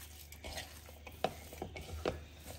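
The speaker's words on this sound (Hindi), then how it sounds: "चीज़ को भी अच्छे तरीके से इसके साथ हम मिक्स कर लेंगे" Grated cheese being mixed into a chicken cutlet mixture in a small bowl, a quiet scatter of soft spoon scrapes and a few sharper knocks against the bowl.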